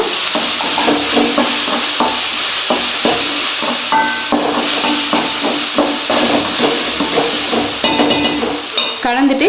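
Spiced masala with pepper sizzles in a hot pan while a utensil stirs it in quick, rhythmic scraping knocks, with a steady hiss of frying underneath, close and loud.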